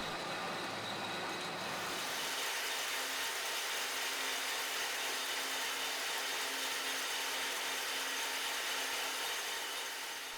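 A jute spinning frame runs steadily, its bobbin rail driven up and down by a cam, lever and chain linkage, giving a continuous faint mechanical whir and rattle that swells after the first two seconds.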